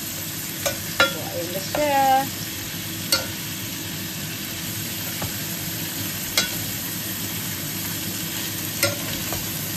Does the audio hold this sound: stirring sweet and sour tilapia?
yes